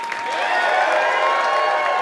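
A live studio audience at a comedy talk show applauds and cheers in a steady, dense wash of sound that stays loud from start to finish.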